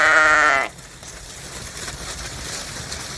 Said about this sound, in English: We love the Icelandic sheep.